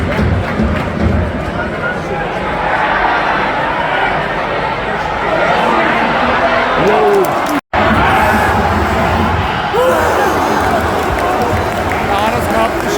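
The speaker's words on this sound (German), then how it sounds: "Alle klatschen, weil Alex Schmidt kommt." A football stadium crowd at a Vienna match between Austria Wien and Red Bull Salzburg claps and cheers for a substitution, a loud continuous roar of applause and chatter with nearby voices talking over it.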